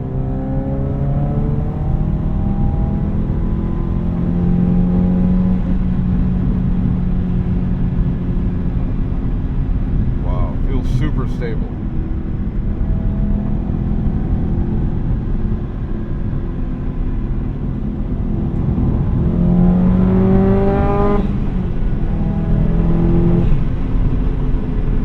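A 2005 Subaru WRX STi turbocharged engine heard from the driver's seat, a loud continuous drone that climbs in pitch through two long accelerations with a brief gear-change whoosh between, turbo whir over the rumble.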